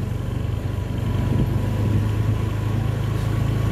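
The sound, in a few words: truck engine with blow-by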